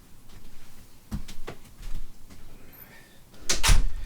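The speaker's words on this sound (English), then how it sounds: "I'm going to close the door." A door being shut indoors gives a few soft knocks and shuffles, then a louder thud and latch near the end, all at close range against a faint room hiss.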